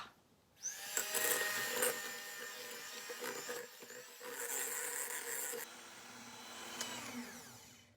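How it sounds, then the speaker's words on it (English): A loud blender whirs up while making banana bread, roars steadily with shifting pitch as the motor strains, briefly dips, then spins on and cuts off near the end. "let's get the blender"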